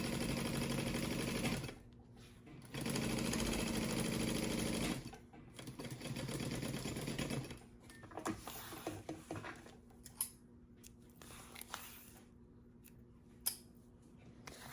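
A sewing machine stitching a crossbody bag runs in two long close bursts of rapid motor-driven stitching, then stops for softer handling clicks and brief snips.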